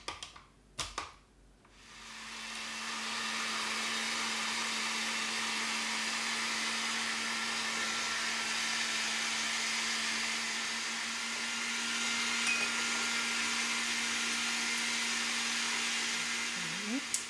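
A modified blender grinds soy beans for soy milk, a loud steady whir with a constant motor hum that runs almost unchanged after a short start, with no voices.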